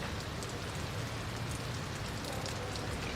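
A schefflera bonsai is watered in its pot, giving a dense, steady hiss of water spraying and pattering onto soil and pot, close and continuous without a break.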